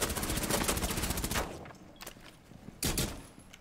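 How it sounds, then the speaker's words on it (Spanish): Bursts of gunfire in a Rainbow Six Siege match, heard from the other bomb site: a dense volley for about a second and a half, then a quieter stretch and another short burst near the end. "Lo estás escuchando disparar a la otra bomba."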